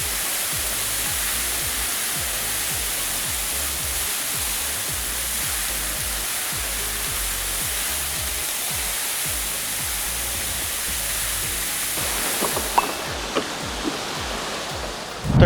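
Claredita Falls in Quirino pours in a loud, steady broadband roar of falling water heard from the top of the falls. The roar runs unbroken for most of the clip before it shifts and small clicks and handling bumps appear near the end.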